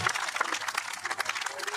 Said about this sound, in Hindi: एक बार फिर से तालियां उनके लिए।